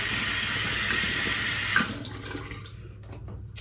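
Water runs steadily from a tap as an ear pick is rinsed during a skincare routine, a close hissing flow for about two seconds before it quickly fades to a light trickle.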